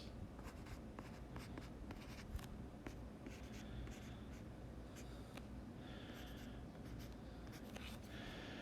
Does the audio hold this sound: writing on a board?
yes